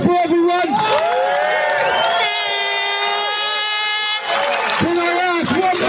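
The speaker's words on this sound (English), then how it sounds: "Big round of applause for everyone." A crowd at an outdoor rally in Britain cheers, whoops and claps loudly, with shouting voices layered over a dense, steady roar.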